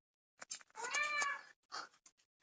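A domestic cat gives a single drawn-out meow, close and clear, followed by a few soft chirps and small noises in a quiet room.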